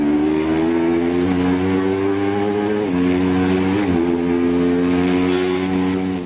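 Racing motorcycle heard onboard at speed during a road race, its engine holding a loud, steady high-pitched drone with brief dips as the rider shifts, continuous and close.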